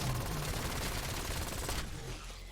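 Sustained gunfire in Black Ops 7 as a bear is brought down, a dense, continuous volley of rapid shots that fills the whole stretch before dropping off near the end.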